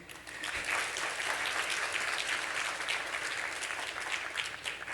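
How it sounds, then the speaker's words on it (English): An audience at a keynote conference event applauds the organizers, a steady, full wash of many hands clapping at a moderate distance for several seconds. "We have to give them a round of applause because they did a really great job today."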